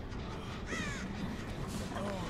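A crow in the Dead by Daylight video game caws twice, first loud and harsh, then a softer second call, over a steady low game ambience.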